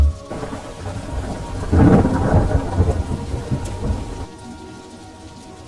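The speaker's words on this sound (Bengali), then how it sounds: "জল এত বেশি আর বৃষ্টিও এত জোরে পড়ছে" Heavy rain falls steadily while a deep thunder rumble swells up a couple of seconds in, rolls loudly for a few seconds, then fades back to the hiss of the downpour.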